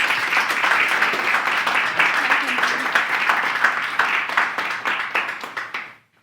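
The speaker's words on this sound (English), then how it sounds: "Round of applause for Danny and Lily, guys." An audience at a YMCA showcase event applauds for two presenters, a dense, loud round of clapping lasting several seconds before tapering off quickly at the end.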